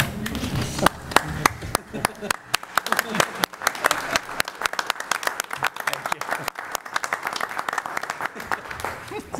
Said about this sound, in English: I would like to make a motion that we all rise and give Keith a round of applause